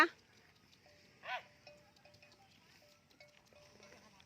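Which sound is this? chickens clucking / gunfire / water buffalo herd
water buffalo herd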